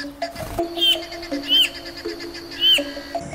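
Western Parotia in an Indonesian forest, a male courting while females watch from branches above, gives three short, bright calls spaced about a second apart over a steady backdrop of insect and forest hum.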